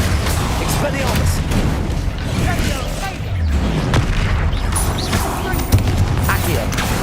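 An Expelliarmus spell cast in the video game Hogwarts Legacy, heard as a dense, booming magical blast that rolls on for several seconds over constant in-game noise.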